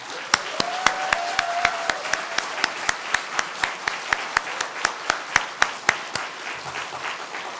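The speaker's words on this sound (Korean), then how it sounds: "박수로 하나님께 영광 돌리겠습니다." A church congregation at a Christmas thanksgiving service applauds the choir. The claps are evenly spaced and rhythmic at moderate loudness, with a faint sustained tone early on.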